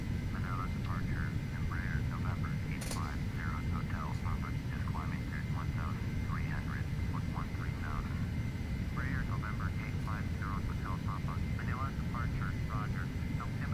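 An airliner's engines roar at full throttle during the takeoff roll, a loud continuous rumble and whine heard from inside the cockpit, with voices talking over it throughout.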